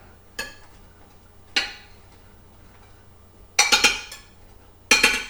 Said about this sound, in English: I'm just going to stir this